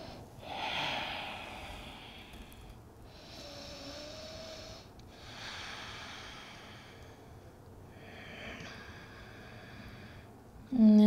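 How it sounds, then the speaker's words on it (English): Deep, smooth yoga breaths taken in a forward fold. Slow, audible inhales and exhales come in a few long cycles, close and breathy, with a faint voice at times. "We're here for three breaths, finding nice, smooth, deep breaths here."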